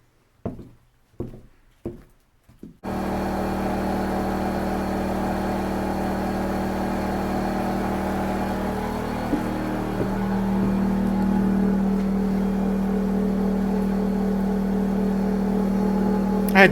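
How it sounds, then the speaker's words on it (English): A generator powering work lights in an 1800s grist mill: a few sharp knocks, then a loud, steady engine drone that runs without a break. "I'm running the lights off a generator at the moment, so sorry about the noise."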